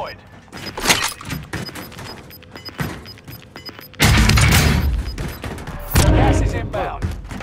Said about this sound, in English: A Nebula 5 bomb has been deployed.